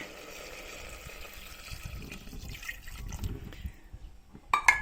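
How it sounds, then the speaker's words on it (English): Water is poured into a pot of oxtail gravy with chopped onions and tomatoes, giving a soft, low gurgling and splashing that grows a little louder before ending with a few brief clinks. "Now I'm going to add the water."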